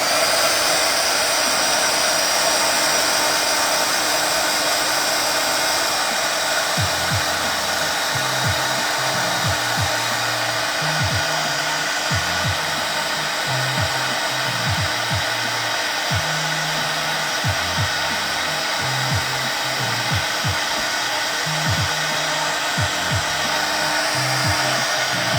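Hair dryer drying a wet painting, a constant loud blowing roar through the whole stretch, with faint low musical notes and light brushing underneath.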